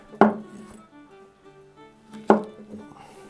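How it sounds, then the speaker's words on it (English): Kitchen knife slicing boiled Brussels sprouts into fine strips on a board for an 18th-century recipe, two sharp separate chops about two seconds apart, close and clear, with quiet between them. "So we're going to cut these into little strips here"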